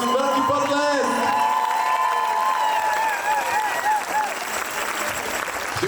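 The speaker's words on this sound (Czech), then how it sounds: "Prosím, velký potlesk!" An audience applauds warmly and cheers after a children's dance performance at a dance exhibition, steady clapping with whoops and children's shouts, loud and sustained.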